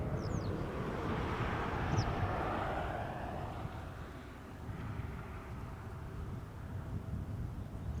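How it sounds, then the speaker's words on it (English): An EasyJet Airbus A320neo arriving at Schiphol from Copenhagen, a distant, faint jet roar that dips slightly midway before swelling again, with some wind noise over the microphone. "The EasyJet arriving from Copenhagen, A320 Neo"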